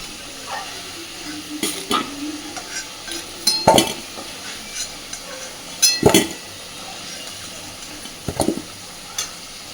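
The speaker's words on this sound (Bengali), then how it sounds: "আলুগুলো সব আমি সুন্দর করে বেশ লাল লাল করে ভেজে নিয়েছি এবার এই আলুগুলো তুলে নিচ্ছি" Potatoes are fried in oil in a pan and lifted out, a low steady sizzle broken by a few sharp scrapes and clinks of a metal utensil against the pan.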